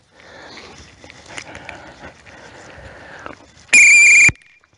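A sharp, high whistle blast sounds once near the end, cueing a dog to sit in training, after quiet shuffling and movement with soft panting.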